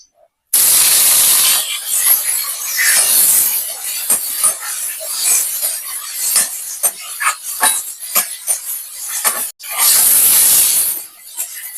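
Cut tomatoes dropped into hot oil, a loud burst of sizzling and spitting hiss that settles into crackling popping, then flares up again near the end.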